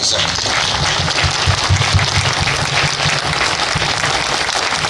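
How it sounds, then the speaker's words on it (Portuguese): An audience at a book launch applauds steadily and loudly in honour of Antônio Sapucaia, a dense continuous wash of clapping that holds the whole time. "eu peço uma salva de palmas"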